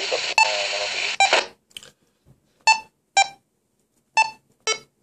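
Kenwood TH-D7aG handheld amateur radio gives a sustained electronic tone, then a series of short, sharp beeps in pairs while its power setting is switched; close and clear with no talking.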